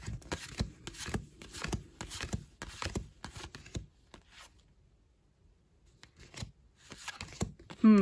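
Crisp, papery flicks and riffles of Pokémon trading cards being shuffled in quick bursts, close up, then a quieter stretch with a few scattered handling sounds.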